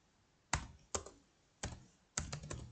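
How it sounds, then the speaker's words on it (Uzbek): Four separate bursts of computer keyboard typing while entering HTML and CSS code, crisp clicking keystrokes close up in a quiet room, the last burst a quick run of keys. "shift tugmasini bosamiz va yozishni boshlaymiz"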